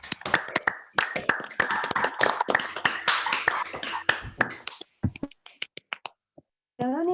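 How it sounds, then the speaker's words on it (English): Scattered applause from participants with unmuted microphones at an online academic talk, a ragged mix of several people clapping at once, fairly loud, then thinning into a few isolated claps toward the end. "I suggest that we unmute our microphones for applause"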